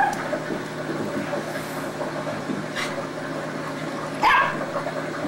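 A young puppy gives a few brief, sharp yips and barks indoors near a kitchen, mostly isolated, with one louder yelp near the end.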